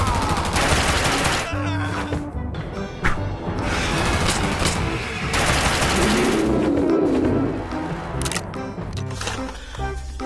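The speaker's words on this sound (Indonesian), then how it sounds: "Dan yang ini ada tembakan M14." M14 rifle fire in the video game Jurassic World Evolution 2, with loud rapid cracks and bursts of shots in quick, uneven succession that ring out sharply and close.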